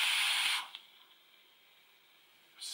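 A loud hissing spray for about half a second from a VandyVape Pulse BF squonk mod pumping e-liquid, then near silence, with another hiss starting at the end.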